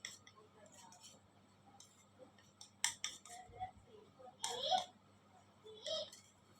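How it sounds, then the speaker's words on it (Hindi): Paint colours, including Blue Bird paints, are mixed on a palette in a quiet room, giving soft, scattered clinks and taps that come in short clusters with pauses between them. "ये मैं कलर्स मिक्स कर रहा हूँ पैलेट पे।"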